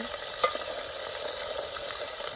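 Onion, garlic, tomato and coconut gravy sizzles in hot oil, a steady close hiss throughout with one brief clatter near the start and no talking.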